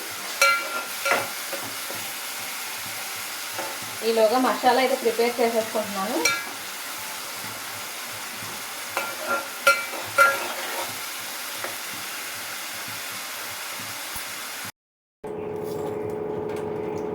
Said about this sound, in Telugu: ఈ ఆనియన్ గోల్డెన్ బ్రౌన్ వచ్చే వరకు ఫ్రై చేసుకోవాలి పచ్చివాసన పోవాలి